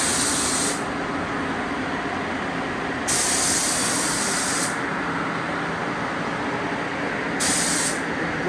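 Spray gun laying paint on a 1969 Pontiac GTO Judge, a steady loud hiss in three long bursts separated by short pauses, with no voices.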